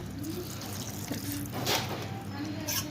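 Water is poured into a pan of gobi manchurian gravy, making a continuous close splashing and gurgling pour that swells briefly near the middle, with no talk.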